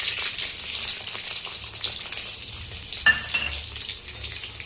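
Onion frying in a pan with crackling cumin seeds while noodles are being made at home: a dense, continuous bright sizzle with a brief clatter of stirring partway through, close and with no talk.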